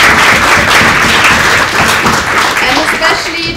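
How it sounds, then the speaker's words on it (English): A conference audience at a privacy event applauds the hosting university, a dense, steady wash of clapping that fills the room at full loudness throughout. "we should give a big, big applause to the University Saint Louis for hosting us again this year"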